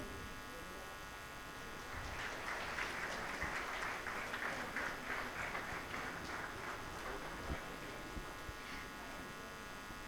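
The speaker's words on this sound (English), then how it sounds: "Can we all have a round of applause as our students commence the grad walk?" Convocation crowd applauding architecture college graduates on their grad walk, steady dense clapping building up and holding for several seconds in a large hall.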